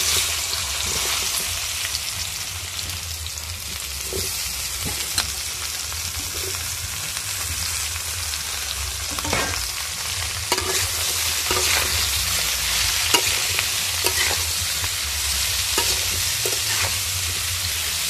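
Amla (Indian gooseberries) frying with spices and asafoetida for pickle, stirred steadily in a pan: a continuous loud sizzle with scraping and spoon knocks throughout, no talking.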